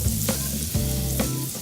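Vegetables sautéing in a hot pan give off a steady, close frying sizzle with the occasional stir, with no one talking over it.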